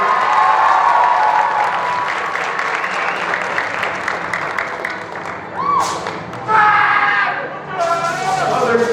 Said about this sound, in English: Give it a round of applause, everybody.